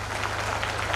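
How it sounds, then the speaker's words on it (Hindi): Wedding audience at a mass ceremony for disabled and low-income couples clapping for the bride, a steady dense patter with a low hum beneath, heard briefly. "तो एक बार दुल्हन के लिए जोरदार तालियां।"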